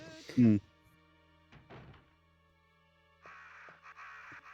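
Crows in a crow room in a Resident Evil game give a loud caw near the start, followed by softer knocks and a low game hum, with people talking over it.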